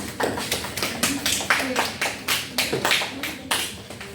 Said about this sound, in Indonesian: Beri tepuk tangan untuk Dimas